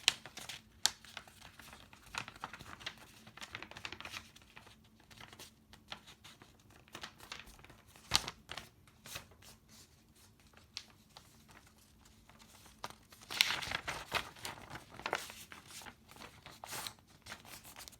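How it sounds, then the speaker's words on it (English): A sheet of paper is handled and folded in half lengthwise for a paper popper, giving quiet crinkles and a few sharper creasing crackles scattered through a long, low-level stretch. "grabbing a piece of paper like this. And then you want to fold it in half, hot dog style, like that"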